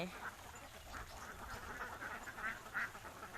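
Laying ducks on a free-range farm, foraging across grassy rice-field land, give off scattered quacks at a moderate distance over a steady outdoor background, with a few louder calls toward the end.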